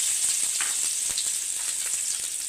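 Chopped cabbage, carrot, capsicum and onion sizzle steadily in a little oil in a wide pan, a continuous close frying hiss with faint stirring scrapes and no talk.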